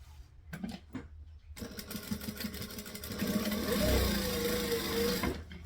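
Sewing machine stitching the sides of a fabric pocket along its bottom edge: a few light handling clicks, then a close, steady mechanical whir that runs continuously and swells slightly in the middle.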